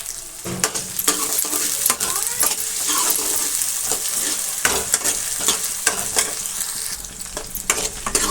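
Loud, continuous sizzling of a spice tempering for mustard greens in a pan, broken by frequent scraping and clinking strokes of a spoon stirring, with no voices.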